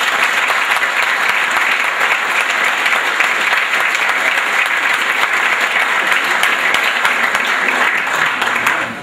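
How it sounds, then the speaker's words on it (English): Loud, steady applause fills a room at a senior sports banquet, honoring the behind-the-scenes kitchen staff, sustained evenly for about nine seconds before tapering at the very end. "let's have a round of applause for all of them"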